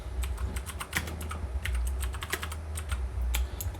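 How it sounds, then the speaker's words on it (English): Rapid, uneven keystrokes on a computer keyboard, close and fairly quiet, with clicks clustered in quick bursts over a faint low background hum. "Let's type this out."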